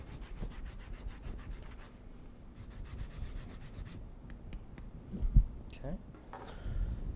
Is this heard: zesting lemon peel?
yes